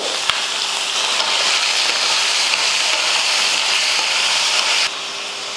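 Tomatoes and mixed vegetables sautéing in a pan for sambar rice, making a continuous bright sizzling hiss that eases slightly just before the end.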